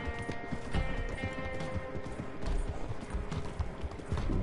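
Horse hooves clip-clop in steady rhythm in the Red Dead video game, set in a busy, dense game soundscape with continuous background ambience and a few brief sharp sounds.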